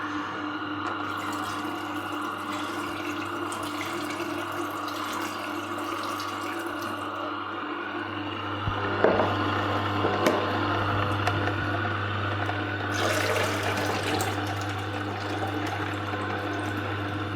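Water runs into a juicer to rinse it, a steady close trickle and splash from a tap or pour lasting throughout, growing briefly louder and more turbulent toward the end.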